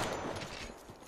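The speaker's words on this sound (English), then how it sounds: "Getting shot at." Gunfire in the shooter game Apex Legends, a dense continuous burst of shots with no clear gaps, steady and fairly loud for about a second, with no voices over it.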